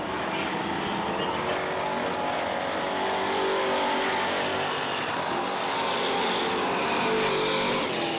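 Race cars roar around the oval at Merrittville Speedway, a dense, steady engine drone from several cars held loud and continuous throughout with no breaks.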